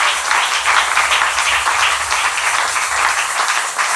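A church congregation at a worship service applauds loudly and continuously, a dense close roar of many hands clapping with no break.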